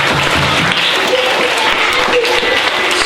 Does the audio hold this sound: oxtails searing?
no